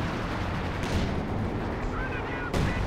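Artillery counter-barrage in the Company of Heroes 2 strategy game, a steady rumble of distant shelling with a couple of sharper impacts near the end, faint and continuous under the game's battle noise.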